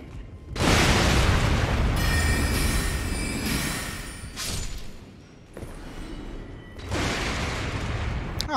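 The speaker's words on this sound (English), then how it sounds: "Ah, interesting. Explosions." Repeated heavy explosions boom in the Elden Ring video game, several loud bursts with long rumbling tails separated by brief lulls, at the walls of Stormveil Castle.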